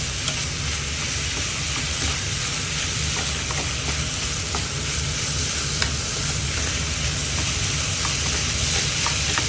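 Fried rice soaking up its sauce is stir-fried in a pan with a loud, dense, continuous sizzle, peppered with light metallic clicks and scrapes from the spatula.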